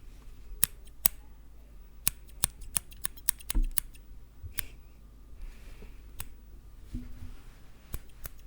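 Close scissors snip through hair at a salon chair, a series of crisp metallic clicks spaced unevenly over a quiet background, with small soft rustles in between and no talking.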